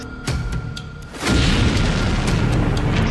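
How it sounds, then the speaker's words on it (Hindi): A single heavy boom erupts about a second in, followed by a sustained roaring rumble that fills the rest of the moment. "इसके बाद यह टैंक चलता रहा और फिर ऐसा धमाका।"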